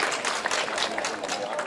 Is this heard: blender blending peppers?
no